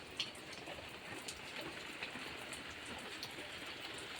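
Steady rain falls on a rainy day, a soft continuous hiss of drops with a few slightly louder patters, fairly faint and even throughout, with no voices.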